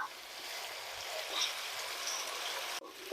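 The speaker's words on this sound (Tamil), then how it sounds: "இஞ்சி பூண்டு நல்லா வதங்கட்டுங்க" Ginger and garlic sautéing in a pan, a dense, steady sizzle like rushing water that holds constant and close, cutting out briefly near the end, with no voices.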